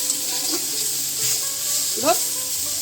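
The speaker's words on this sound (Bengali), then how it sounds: "বরবটি ভাজা হচ্ছে" Yardlong beans fry in a pan with a steady close sizzle, while a fan hums in the background and a few faint clinks and stirring sounds surface.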